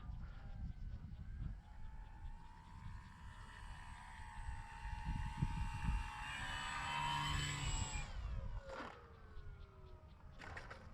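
Dynam Waco RC biplane flying overhead, its electric motor whining and rising in pitch as it climbs away, steady and moderately loud against light wind noise with a few sharp clicks near the end.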